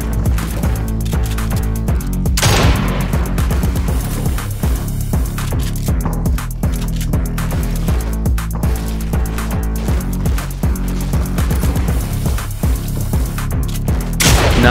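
Pump shotgun fire in Fortnite, loud game blasts layered over a constant busy mix of music and game noise, with sharp shot transients standing out throughout.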